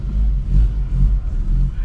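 Volkswagen Passat GTS with a 1.8 ethanol engine and manual gearbox revs low and steady as it pulls away, a close, deep rumble with light swells in throttle.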